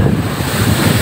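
High sea waves breaking on the west coast of Lampung on a bright day, a loud continuous roar of surf with heavy wind buffeting the microphone throughout.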